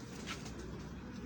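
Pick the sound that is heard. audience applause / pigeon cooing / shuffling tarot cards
pigeon cooing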